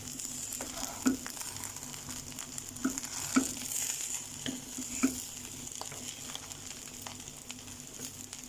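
Chicken schezwan fried rice is stirred gently in a hot pan, with a steady sizzle and frying crackle and soft scraping taps at an irregular pace, close and moderately quiet, no talking.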